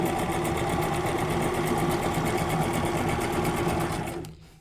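A Brother XM2701 sewing machine stitches a wavy line, running close, loud and steady with a fast rhythmic chatter for about four seconds before winding down and stopping.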